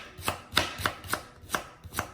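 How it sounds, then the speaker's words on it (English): Knife slicing ingredients very thin on a cutting board to make shrimp soup with greens, seven or eight evenly spaced crisp chops in a steady rhythm, close and clear with no voices. "So it's just slice real thin like that,"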